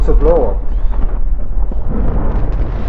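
A deep, heavy rumble of a storm blowout rolls continuously in the STALKER game, loud and low, while a voice speaks over it.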